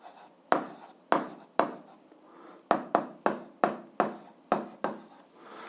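Chalk or marker handwriting physics problem data on a board: a series of short scratchy strokes in an uneven rhythm, about a dozen taps and scrapes, close and fairly quiet with no talking.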